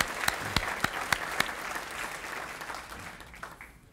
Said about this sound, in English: Let's give a big round of applause to 7th and James Baptist Church.